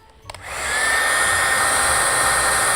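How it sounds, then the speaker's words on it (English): A hair dryer switches on after a brief click and runs steadily with a loud, even whooshing roar that holds constant to the end. "So let's turn on the hair dryer and see what happens."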